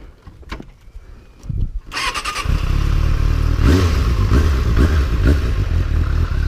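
A warm Suzuki GSF 600 Bandit four-cylinder motorcycle engine cranks and catches, then settles into a loud, steady idle with slight revving. Handling noises come first, and the bike is heard close up from onboard.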